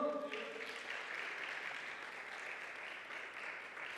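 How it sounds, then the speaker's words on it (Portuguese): A church congregation applauds at a Portuguese-language service, a steady wash of clapping that holds moderately loud throughout, with a brief trace of voice at the very start. "Vamos aplaudir ao Senhor"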